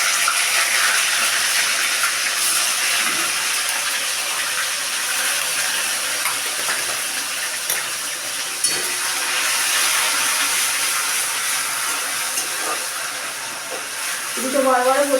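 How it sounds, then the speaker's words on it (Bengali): Onion paste added to potatoes with whole dry chillies, bay leaf and cumin in a hot pan, a steady loud hissing sizzle throughout with a voice speaking near the end. "এবার দিচ্ছি পেঁয়াজ বাটা"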